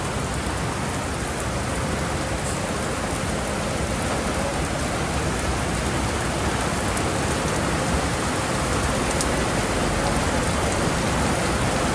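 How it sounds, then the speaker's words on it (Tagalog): Heavy rain pouring down steadily outdoors, a dense, loud, unbroken hiss that stays constant throughout with no voices. "Kanina ambon-ambon lang. Dito ulan na."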